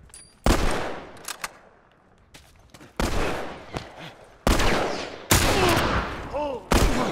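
Gunshots from the video game The Last of Us Part 1: several sharp, loud single shots spaced a second or two apart, each with a short echoing tail, with no talk.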